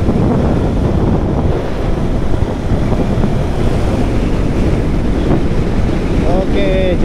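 Heavy, constant wind buffeting roars across the microphone of a motorcycle cruising at about 90 km/h on the Pantura road near Arjawinangun. The wind rush is loud and unbroken throughout, with a faint horn or whine near the end.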